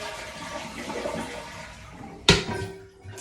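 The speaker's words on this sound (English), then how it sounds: "I'm gonna flush it all the way down" A nearby toilet is flushed during a fill valve replacement, starting with a sudden loud rush of water that swirls and drains, after quieter background noise.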